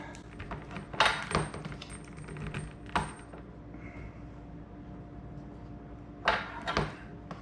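Tape is wrapped around a 1.5 inch threaded plastic drain fitting, which is then tightened in. Faint crinkles and scrapes come up close, broken by a few sharp clicks and rattles, with quiet gaps between them.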